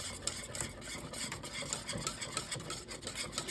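A whisk or spoon stirring country gravy seasoned with salt and pepper in a pan, a quiet continuous scraping and rubbing in a quick, uneven rhythm, close and alone with no talk.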